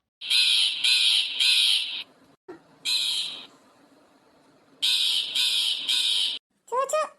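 A crow caws loudly and close by in three bursts of repeated harsh calls separated by short gaps, with a final clipped call at the end.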